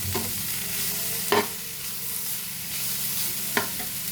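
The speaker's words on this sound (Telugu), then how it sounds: "కొంచెం వేగనిచ్చి 2 మినిట్స్ దగ్గర కొంచెం వేగనివ్వాలి, కలుపుతూ ఉండాలి." Coconut carrot curry frying in a pan, a steady soft sizzle with two brief stirring scrapes spaced apart, no voices.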